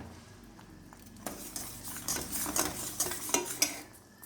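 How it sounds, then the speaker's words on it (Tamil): A spoon stirs melting jaggery in a pan, making soft close scraping and clinking strokes that grow busier and a little louder toward the end, with a faint sizzle underneath. "ஒரு பக்கம் வந்து வெல்லம் வந்து ரெடி ஆகிட்டுருக்கு"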